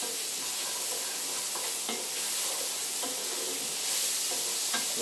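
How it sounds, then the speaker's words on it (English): Onions sweating down in a pan, sizzling in a soft, steady hiss broken by occasional scraping taps as they are stirred, close and moderately quiet, with no voices. "Keep remembering to stir your pan as you go. Sweating those onions down."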